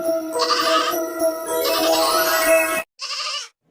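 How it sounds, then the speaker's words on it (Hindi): A goat gives two loud, close bleats: a long wavering cry, then a shorter one after a brief pause. "यह तो बकरी के चिल्लाने की आवाज है"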